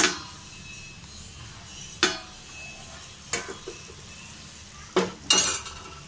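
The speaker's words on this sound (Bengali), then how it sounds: "তারপর আমি এটাকে একটা প্লেট দিয়ে ঢেকে দেব" Pan-fried hilsa fish in a pan, with hard clinks of a plate and utensils against the pan at uneven intervals over a faint background hiss, close by and without talk.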